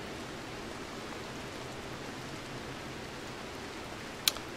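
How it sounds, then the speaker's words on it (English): Steady rain falling in the video game Rimworld, an even, soft hiss running throughout with one brief sharp click near the end. "Here, rain. This is going to help our potatoes and corn."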